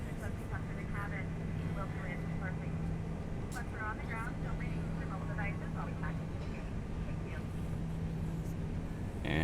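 A steady low airplane engine drone at idle throttle hums evenly beneath a pilot talking throughout, during a night descent in X-Plane over Germany.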